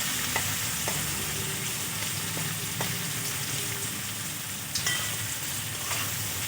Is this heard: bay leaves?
yes